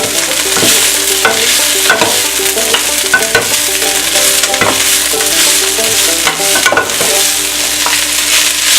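Utensil stirring food in a hot pan for a flank and skirt steak dish, repeated scraping strokes in an uneven rhythm over a steady sizzle, close and loud with no talking.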